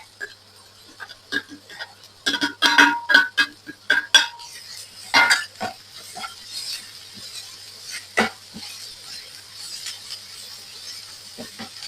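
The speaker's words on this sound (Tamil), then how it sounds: "உப்பும் சேர்த்தோன்னே எங்களுக்கு வெங்காயம் வந்து நல்லா வதங்கிட்டு இப்படி நல்லா வதங்கி விரையக்குள்ள நாங்கள் கேரட்டை போட்டுக்கொள்ளுவோம்" Onions and carrot being sautéed in a pan for aval upma, with scattered clinks and scrapes of a spoon against the pan, a cluster of busy stirring in the middle and soft sizzling underneath.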